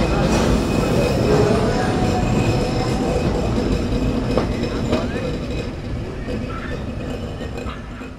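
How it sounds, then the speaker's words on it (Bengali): A train pulling out of Pangsha railway station at night, a loud continuous rumble of rolling wheels and carriages with faint squeals and rattles, slowly easing, with people talking faintly underneath. "এখন ডিপারচার নিচ্ছি পাংশা রেলওয়ে স্টেশন থেকে"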